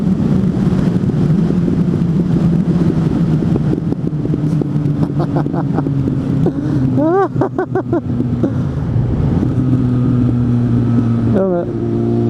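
Suzuki GSF 600 N motorcycle engine running warm outdoors, a continuous loud rumbling drone with a few rising revs, heard under someone talking throughout.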